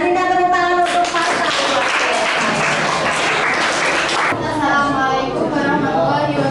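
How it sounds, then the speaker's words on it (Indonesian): Classroom applause for a teacher, a burst of overlapping clapping from students that starts strongly and then fades, with speech-like voices heard at the start and again near the end. "Berikan tepuk tangan untuk Pak."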